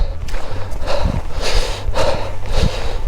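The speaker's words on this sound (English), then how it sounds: "Look at these cows, I like those." Young cattle outdoors on a hillside snort and breathe heavily nearby, several short bursts of snorts and huffs with shuffling movement, close and fairly loud.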